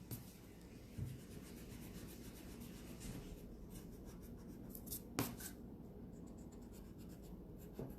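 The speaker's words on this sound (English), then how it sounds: "And you erase your guideline." Pencil guideline being erased on drawing paper, a quiet, close rubbing scratch that runs steadily with one or two small taps, faint and without talk.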